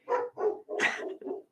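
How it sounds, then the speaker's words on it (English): Several dogs bark in a quick burst of four sharp, fairly close woofs, loud and alone with no talk over them. "don't panic if the dogs bark"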